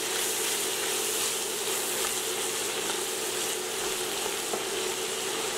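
A pan sizzles steadily and evenly at close range as a quarter cup of all-purpose flour goes in to start a roux for a thick seafood chowder. There is no talk.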